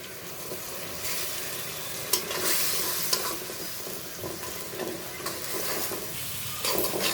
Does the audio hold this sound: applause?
no